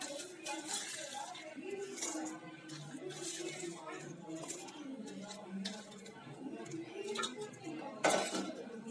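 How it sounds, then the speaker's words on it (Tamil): Several unpeeled garlic cloves drop and clatter into a mixer jar, with a sharper clink near the end, while a person talks throughout. "இப்போ பூண்டு எல்லாத்தையும் சேர்த்துடலாம்"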